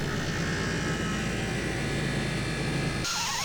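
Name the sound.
bench grinder cleaning rust off iron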